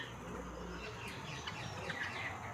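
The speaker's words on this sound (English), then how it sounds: "I open my eyes with their chirping and singing" Small birds chirping and singing outdoors on a morning, faint, light twittering calls scattered through a steady background hiss.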